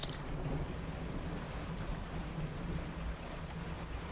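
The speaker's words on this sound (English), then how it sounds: "Oh, it's just thunder. Just thundering." Thunder rumbling during a storm in the fishing horror video game Dredge, a steady low roll mixed with rain noise that stays loud throughout.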